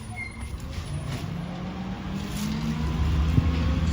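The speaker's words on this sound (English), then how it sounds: "It's garbage truck 27." Heavy engine of garbage truck 27 driving through a residential neighborhood, a steady low rumble that grows slightly louder and closer over the few seconds, with no talk.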